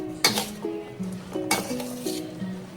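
Green chillies being stirred into freshly squeezed lemon juice for an instant pickle, with a spoon scraping and clinking against a steel bowl in a few loud strokes and soft mixing between them.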